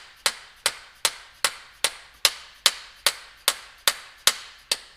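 Soft hammer tapping a seized Detroit diesel injector rack, about a dozen sharp, evenly spaced knocks close up, each ringing off briefly, with no talking.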